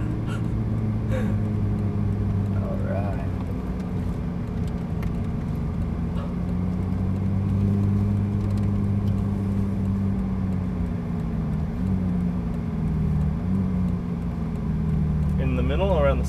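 Ferrari 458 engine heard from inside while driving, a steady mid-pitched drone with gentle shifts in revs throughout, and brief voices in the cabin near the start and end.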